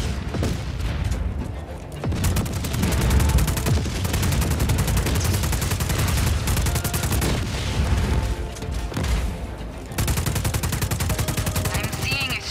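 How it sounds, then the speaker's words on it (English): Heavy gunfire and an underbarrel grenade launcher in the video game Just Cause 4, loud continuous bursts of shooting with booming blasts, broken by short pauses. "It's an underbarrel grenade launcher."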